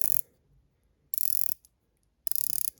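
Three short bursts of crisp ratcheting clicks from a Proxima watch bezel being rotated, close and clear with quiet gaps between turns.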